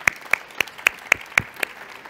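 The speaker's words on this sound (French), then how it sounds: "Puis moi, je vous applaudis." Hands clapping in a slow, regular rhythm, about eight distinct claps spaced evenly, close and moderately loud, as one person applauds alone.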